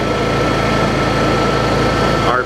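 A Honda EU7000iS generator runs at a steady 3,300 RPM, a continuous even engine hum with no breaks, close and moderately loud.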